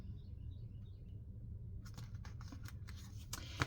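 Scissors snip through paper to cut a small card tag, a few quick crisp cuts close by after a quiet opening stretch.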